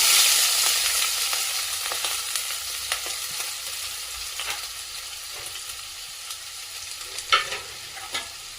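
Chopped onions and green chillies frying in oil give a bright steady sizzle, loudest at first and easing slightly, with intermittent scrapes and taps of a spatula stirring the pan.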